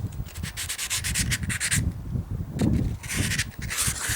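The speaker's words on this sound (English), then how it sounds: "We can do it the rest of the way just with the sandpaper." Sandpaper rubs by hand across the wooden body of a nylon-string acoustic electric guitar in quick back-and-forth strokes, close and fairly soft, with a brief pause midway.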